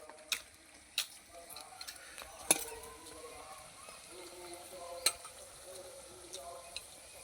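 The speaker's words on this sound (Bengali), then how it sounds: "এই পকোড়াগুলো আমার ভাজা হয়ে গেল" Amudi fish pakoras fry in hot oil in a home kitchen, giving a soft, faint crackling sizzle. Scattered sharp pops and clicks of utensils come through now and then.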